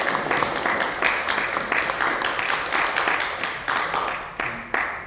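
A church congregation at a Sunday worship service claps in welcome for a new deaconess, a dense run of many hands applauding steadily for several seconds, loud and close, with no one speaking.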